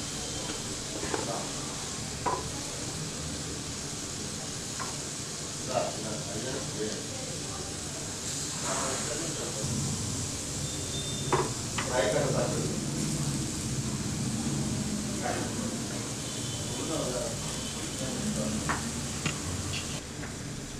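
Capsicum and carrot roast in a pan, a soft steady sizzle and hiss with occasional stirring scrapes and clinks, while someone talks over the cooking.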